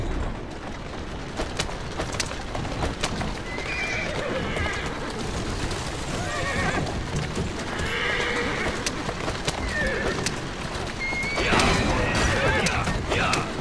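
A horse whinnies repeatedly amid rhythmic galloping hooves and busy game-like background sound, loud and continuous throughout, in Assassin's Creed Syndicate.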